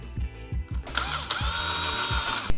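A power drill bores a pilot hole into the metal side of a van being converted, whirring in short bursts before a sustained close, loud grinding run.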